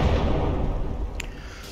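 A shell detonates deep inside the bow of the battleship MEGADOZER during a From the Depths naval battle: a dense, rumbling boom that rolls on and slowly fades, with a brief sharp crack near the end and no talking.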